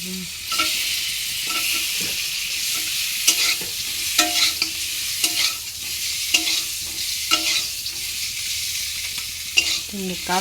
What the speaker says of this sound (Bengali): ঘি ভাজি করছে